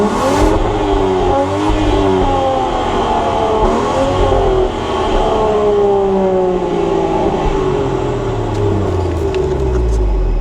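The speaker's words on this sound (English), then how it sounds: "Let's see what this freaking sweet inline six sounds like though." A Land Rover Defender Outbound's inline-six engine revs loudly and close, the pitch rising and falling through several sweeping blips before settling toward a lower drone.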